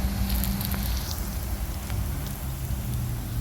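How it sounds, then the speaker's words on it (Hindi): Okra fries in a kadhai, giving a steady broadband sizzle and hiss with small crackles throughout, fairly close and even in level, with no talking. "भिंडी फ्राई हो चुकी है, ये देखिए।"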